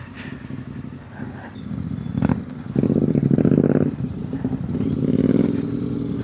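A group of Royal Enfield 650 twin motorcycles rides together toward Kethanahalli Falls, their exhausts making a steady, rumbling drone that swells as nearby bikes accelerate, with some wind buffeting.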